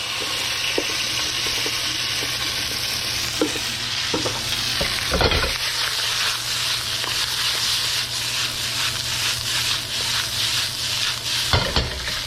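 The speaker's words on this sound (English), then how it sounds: "And then our vegetables go right in." Greens and aromatics stir-frying in a wok, a steady loud sizzle with scraping, clattering stirring strokes and occasional metallic knocks throughout, no talking.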